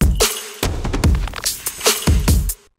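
Tom fills closing a melodic bass drum loop: a run of punchy, booming tom hits in quick succession with bright cymbal-like decays, loud and close, with no talking.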